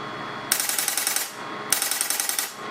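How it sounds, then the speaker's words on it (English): Homemade air cannon on full auto, driven by 24V solenoid valves, fires two rapid bursts of sharp, loud pneumatic pops, each burst under a second long, with a short pause between them. "Now let's hit the full auto fire button."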